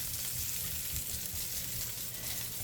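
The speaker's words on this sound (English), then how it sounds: "We will let them saute a little bit until we can smell." Shallots sautéing in oil in a pan at home, a steady, soft sizzle and crackle that holds constant throughout with no one speaking.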